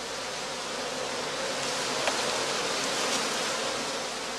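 Honey bees building comb inside a woven Lüneburg-type skep give a dense, even, close-up drone of many wings that holds at a steady level throughout.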